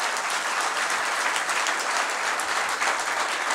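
A large audience at a Hindi religious sermon breaks into sustained, dense applause, steady and loud throughout without a break.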